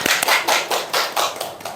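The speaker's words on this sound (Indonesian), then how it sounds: "Oke, tepuk tangan dulu." Students in a classroom clap together briefly, a short burst of rhythmic, close applause lasting under two seconds with no talking.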